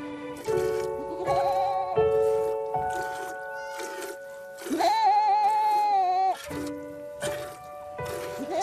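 A goat bitten by a wolf at a nomad camp in Ladakh bleats in several long, wavering, nasal cries, loud and close, separated by short pauses.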